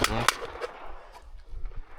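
Several sharp gunshot cracks from a game, one loud early blast followed by fainter scattered pops over a low rumble.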